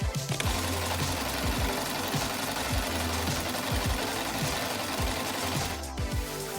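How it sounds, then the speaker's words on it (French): A sewing machine runs steadily while sewing colourful ruffles onto a doll's dress, a loud, close, rapid rhythmic needle clatter continuing without talking. "Vous pouvez demander à un adulte de vous aider avec la machine ou pour coudre les froufrous à la main"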